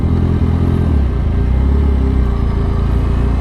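An old Kawasaki H2 motorcycle with a titanium exhaust rumbles loudly up close, a deep, throbbing idle with a rough clattering texture and a slight change in note about a second in.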